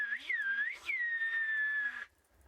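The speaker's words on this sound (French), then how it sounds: "Langage intime, comme les langages sifflés ou le patois. Ici un exemple turc." Turkish whistled language, a loud, clear, sustained whistle with a rising and falling pitch, a short break, then a long held tone that stops abruptly.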